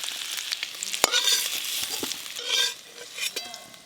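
Pieces of taro (kochu), cut into paneer-like cubes, sizzle and crackle in a hot pan, a steady close frying hiss with sharp spatula clinks and stirring scrapes breaking through.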